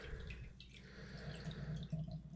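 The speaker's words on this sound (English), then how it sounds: "Got the grouse in the brine, pulling it out." A brined grouse is lifted from its liquid and drips softly, a faint trickle of falling water over a low, steady background hum, heard close with no voices.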